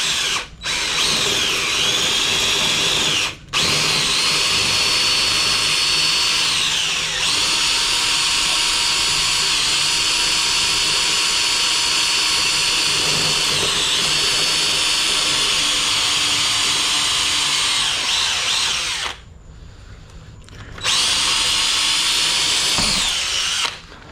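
A regular electric drill bores a hole into a concrete wall for mounting a TV, a loud, steady whining grind close by that runs almost continuously with short pauses and a brief stop near the end before resuming.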